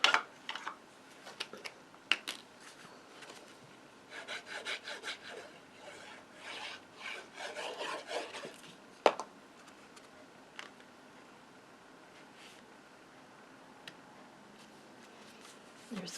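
Adhesive backing is peeled off small card pieces, giving faint, close crinkly rubs and scratchy rustles with a few sharp ticks, quiet and intermittent.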